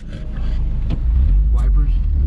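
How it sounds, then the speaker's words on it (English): Ford Ranger trucks racing outdoors, a rising engine rumble building as one accelerates close by, with a person talking and shouting excitedly over it. "I got these hoodlums out here racing these Ford Rangers"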